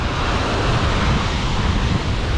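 Ocean waves break and wash on a Hawaiian shore, a loud continuous broadband roar of surf mixed with wind buffeting the microphone, with no clear gaps.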